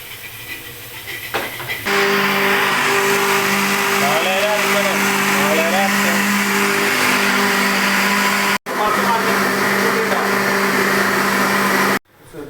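A kitchen mixer grinder whirs loudly and steadily as it grinds coconut with cumin and spices, starting abruptly, briefly cutting out and restarting, with faint voices underneath.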